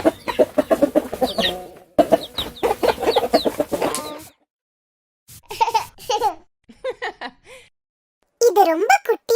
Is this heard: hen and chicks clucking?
yes